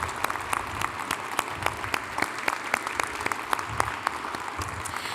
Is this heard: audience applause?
yes